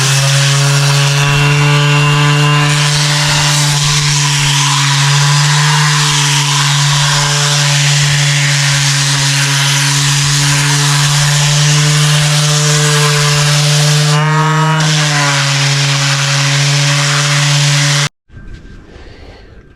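Power sander working cured resin and gelcoat laminate on a laundry area build, a steady loud whirring drone with strong harmonic hum running continuously for about eighteen seconds before cutting off abruptly.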